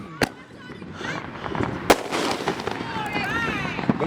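New Year fireworks burst outdoors: a few sharp, loud cracks and pops, some at a distance, under a steady crackling rumble while people talk and shout nearby.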